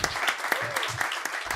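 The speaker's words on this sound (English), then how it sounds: "Diana should deserve a big applause" Brief applause at a seaweed industry forum afternoon session, clapping in honour of Diana, with a voice and broadband clapping bursts filling the short moment.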